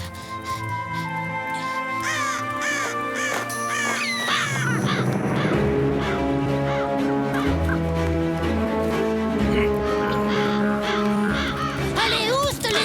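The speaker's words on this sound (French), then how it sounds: "Allez, oust les oiseaux! Saleté de corbeau!" Crows caw repeatedly in an animated outdoor scene, harsh calls rising over a busy background of music and voices, loud and close throughout.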